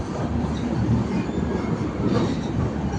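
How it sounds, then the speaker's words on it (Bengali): A long-distance express train from Mumbai rolls past close by as it leaves a station, a steady loud rumble of wheels and carriages with faint rail squeal, continuous throughout with no talk. "খুব সুন্দর ট্রেনটা চলে যাচ্ছে, আমাদের সামনে দিয়ে চলে যাচ্ছে।"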